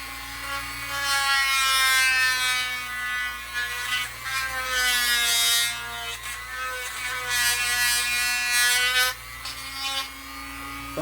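A Dremel rotary tool grinds flashing off a DIY great white shark model, a close, buzzing high-pitched whir that rises and dips in pitch as it bears on the material, running continuously for about eleven seconds.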